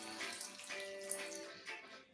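Water is poured from a tablespoon onto sugar for an apple tarte tatin, a soft, steady close trickle lasting a couple of seconds.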